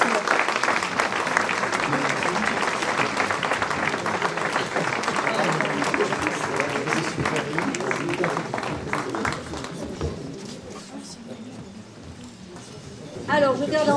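An audience at a community ceremony claps for volunteers, a sustained burst of applause from a crowd that gradually thins and fades out toward the end, with a little background noise after.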